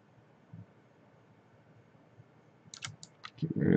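Several quick, light computer mouse clicks come close together near the end while working in Maya software, faint against a low background hum and followed by a louder thump.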